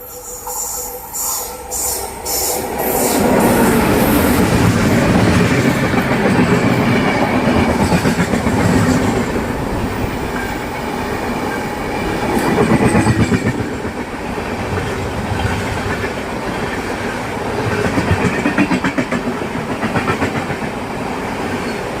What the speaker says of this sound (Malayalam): അങ്ങനെ നമ്മുടെ ജാംനഗർ തിരുനെൽവേലി എക്സ്പ്രസ് കടന്നു പോയതോടെ